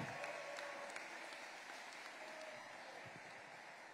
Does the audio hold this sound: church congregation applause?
yes